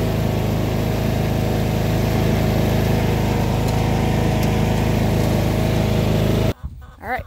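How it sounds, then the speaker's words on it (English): A steady, droning engine runs close by at a constant idle-like pitch, then shuts off abruptly, followed by a brief voice. "But first, we need to take tractor rides."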